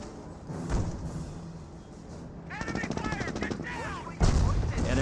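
Machine-gun and rifle fire in a Company of Heroes battle, rattling bursts and sharp shots hitting Pioneer infantry, a loud impact at the end, under steady background rumble and occasional commentary.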